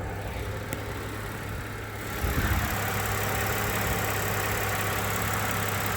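A 2008 Lincoln MKZ engine idles with a steady low hum that turns fuller and louder partway through, as if heard from closer, with no talk over it.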